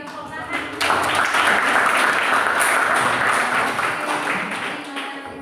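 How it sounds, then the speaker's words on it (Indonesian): A classroom of students breaks into loud, sustained applause that starts abruptly and holds as a dense wash of clapping, with voices mixed underneath. "Tepuk tangan."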